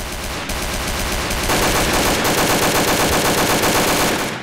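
Rapid automatic gunfire in the video game Garry's Mod, a loud continuous burst of closely spaced shots lasting several seconds before cutting off.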